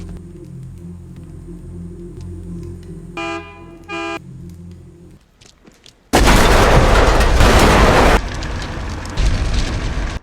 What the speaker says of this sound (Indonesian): Pintu masuk meledak.